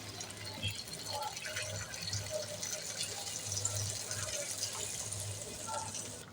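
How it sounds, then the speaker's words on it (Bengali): Hot water poured into a wok of deshi chicken curry cooked with new potatoes, chuijhal and local garlic, giving a steady watery fill with faint splashing and drips through the whole stretch, with a low hum and some talk in the background. "গরম পানি। হ্যাঁ গরম পানি।"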